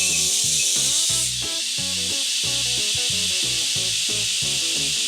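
A belt grinder grinds a knife bevel with a jig at 80 grit, loud continuous abrasive hiss over a motor whose pitch rises and falls, close and unbroken.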